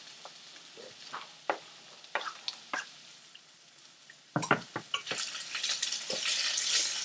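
Green peppers are dropped into a hot pan and stirred, giving close-up sizzling and frying with scattered clinks and scrapes of the utensil, growing louder and busier toward the end.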